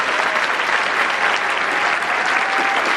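A large audience at a college commencement ceremony applauds the graduating students, with loud, dense, continuous clapping filling the space evenly throughout.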